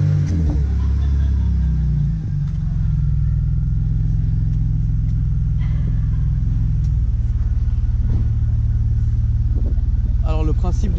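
BMW 330 Ci engine running with a steady, loud low rumble that settles into an even idle, close by, with a voice briefly speaking over it.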